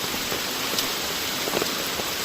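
Steady heavy rain pours down during a typhoon, a dense continuous hiss with faint drop patter close by and no voices over it.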